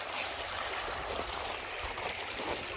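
A creek flows steadily with a soft, even rush and trickle, fairly faint and constant, with no voices over it.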